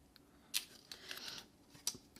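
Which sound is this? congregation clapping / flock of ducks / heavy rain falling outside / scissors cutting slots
scissors cutting slots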